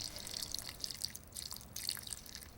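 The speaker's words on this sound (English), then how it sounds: "Pour those delicious juices around." Juices from wood-fired achiote chicken legs are poured into a deep dish, producing faint, light trickling and dripping splashes in quick irregular bursts, close and quiet.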